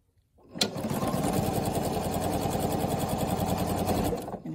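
A sewing machine stitches quilt block units together in one continuous, fast, evenly rhythmic run, starting abruptly and stopping after about four seconds, close and clear.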